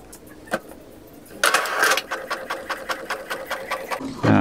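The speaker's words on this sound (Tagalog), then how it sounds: "Try natin mag-print ng rainbow color." An Epson L3210 inkjet printer runs a rainbow color page, starting with a loud burst of mechanical whirring and then settling into a steady train of rhythmic print-head passes, close and alone without talk.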